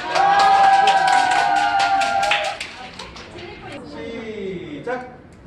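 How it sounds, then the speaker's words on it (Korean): An audience at an office olympics event breaks into clapping and cheering under a loud speaking voice. The applause is strongest at first, then thins out and fades to scattered sounds. "박수!"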